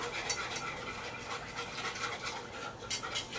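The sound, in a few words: whisking roux into milk with a wire whisk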